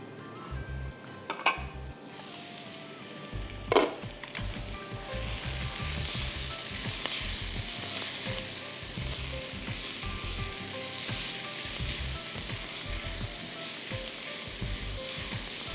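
A clink of utensils, then a loud, steady sizzle as wet tamarind pulp hits a hot pan and keeps frying.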